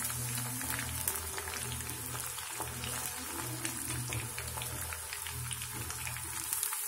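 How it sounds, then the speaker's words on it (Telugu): Chicken pieces sizzle and crackle in hot oil for chicken pickle, a steady bubbling fry with scattered sharp pops, moderately quiet with a low hum underneath and no talking. "ఇలా కొంచెం కొంచెం వేసి వేయించుకోవాలి"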